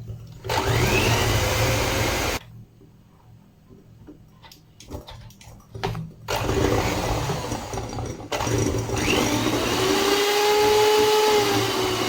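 An electric mixer whirs loudly as it beats eggs and sugar for a cake batter. It cuts out for a few seconds amid quiet clatter, then starts up again in two more sustained runs.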